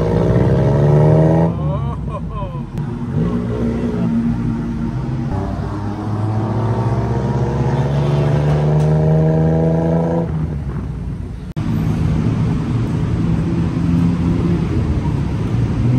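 Exhaust-fitted auto-rickshaw style easy bikes move through Bangkok traffic, their engines droning loudly and revving up and down in pitch, with a voice talking over the noise.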